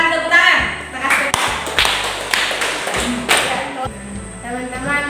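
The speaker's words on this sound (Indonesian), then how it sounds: "Silakan tepuk tangan." Classroom applause from students after a group presentation on compost fertilizer, a loud, dense burst of clapping with a rhythmic beat running under it and voices mixed in.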